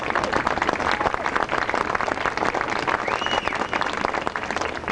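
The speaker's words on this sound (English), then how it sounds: "I really like to have you guys give them a round of applause." Crowd at a high school football pep rally on the field claps and cheers in a dense, unbroken wash for the full stretch, loud and close, with a brief whistle-like tone near the middle.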